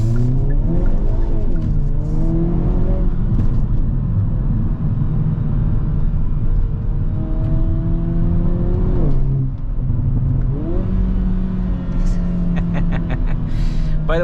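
2022 Hyundai Kona N with a 2.0 engine and sport exhaust, revving hard through repeated gear-by-gear pulls and shifts while driving, loud and close from inside the cabin. A driver talks over the engine.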